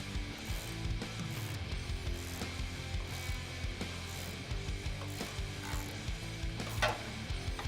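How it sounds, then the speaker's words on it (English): A socket ratchet clicks steadily and close, tightening body mount bolts for step bars on a 2005-2019 Toyota Tacoma Double Cab, with continuous mechanical clatter and no talk. "You can also tighten up the top body mounted bolts with the same socket."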